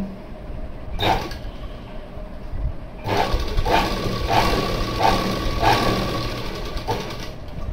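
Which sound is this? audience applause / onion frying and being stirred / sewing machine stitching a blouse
sewing machine stitching a blouse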